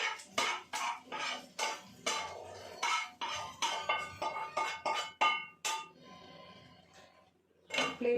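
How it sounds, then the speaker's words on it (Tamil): Cooked ingredients for donne biryani are scooped off a kadai onto a side plate, giving a run of sharp metallic clinks and scrapes of a spoon on metal and plate in a close, quick, uneven rhythm with no talk. "இதை எடுத்து சைடில் ஒரு பிளேட்டில் போட்டுடணும்."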